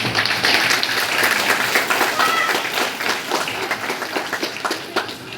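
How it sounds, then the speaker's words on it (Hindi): An audience claps at a school Independence Day celebration, a full burst of many hands that gradually thins into looser, scattered claps toward the end. "सो मैं चाहूँगा पहले तो आप सब लोग अपनी तालियां बजाएं।"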